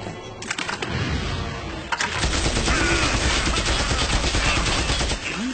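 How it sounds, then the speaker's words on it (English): Loud rapid gunfire rattles in dense automatic bursts, continuous for several seconds, with no voices. "Gunfire?"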